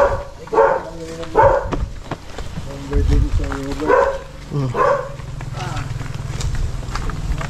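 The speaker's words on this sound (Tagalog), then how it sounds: "Ang cute ng tuta nila oh." A puppy barks in a series of short, sharp yelps, several spaced bursts heard close by, mixed with people talking and footsteps outdoors.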